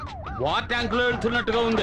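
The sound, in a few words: siren sound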